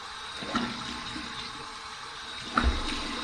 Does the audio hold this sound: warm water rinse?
yes